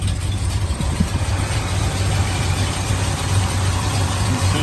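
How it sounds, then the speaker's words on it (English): A classic muscle car engine idles steadily with a low rumbling hum and constant loudness, no voices over it. "Let's take a listen to the engine"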